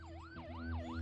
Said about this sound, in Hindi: एम्बुलेंस आ गई है। तू जाके उसका सायरन बंद करा